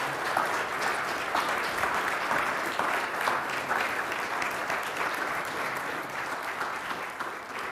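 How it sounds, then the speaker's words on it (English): Steady, sustained applause from an audience at a Prairie Bible gathering, dense clapping filling the room evenly for the whole stretch without a break or voices on top. "give a big round of applause to Bridget Williams as she comes up"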